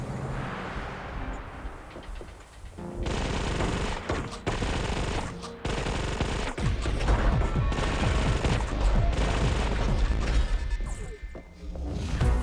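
Machine gun fire in the VR shooter Sweet Surrender played on an Oculus Quest 2 comes in loud, rapid bursts broken by short gaps, with impacts and crashes mixed in.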